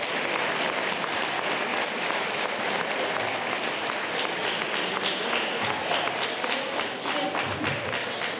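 An audience applauds volunteers at an evening event, producing dense, sustained clapping that fills the room evenly at a steady level throughout, without any speech rising above it.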